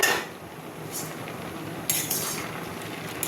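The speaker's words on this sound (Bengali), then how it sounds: "এবার আমি থোর যে সেদ্ধ বসেছিলাম সেই ঢাকনটা খুলে নিচ্ছি" A lid lifts off a pot of boiled banana stem, giving a couple of brief metallic clinks over a steady kitchen hiss, close by with no talking.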